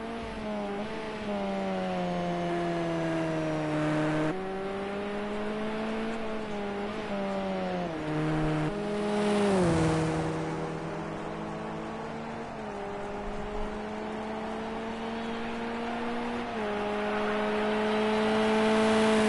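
A race car circuits a wet track in the rain during an endurance round in Austria, its engine holding a steady droning whine with gear shifts and speed changes, the tone dipping and recovering over time, and no talk.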